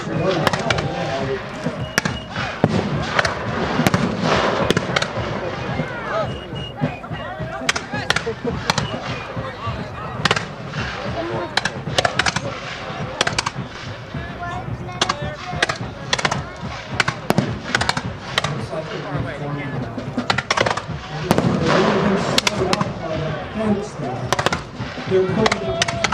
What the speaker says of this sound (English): They're engaged in the American musketry on the hill now.